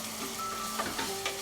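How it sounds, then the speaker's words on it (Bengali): Ginger and garlic paste frying in oil over medium heat for chicken biryani in a pressure cooker, a soft steady sizzle with a few light stirring knocks, close and fairly quiet. "1 টেবিলস্পুন আদা বাটা আর 1 টেবিলস্পুন রসুন বাটা দিয়ে এটাকে আমি এবারে ফ্রাই করে নিচ্ছি"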